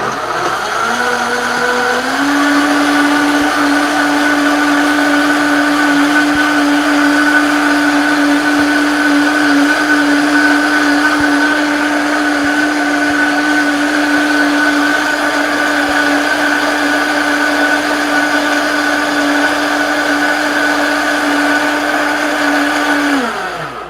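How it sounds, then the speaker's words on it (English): A blender runs steadily and loudly for the whole stretch, whirring through a recipe with almond butter and ginger. It revs up at the start and holds one constant motor whine before winding down at the end, with no talking over it. "Let's just blend it just a little bit longer"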